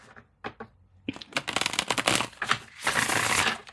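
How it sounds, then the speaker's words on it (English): Tarot cards shuffled by hand in quick bursts of riffling and sliding, close and crisp, with short pauses between handfuls. "I'm going to shuffle this way because I don't want them getting all bent out of shape."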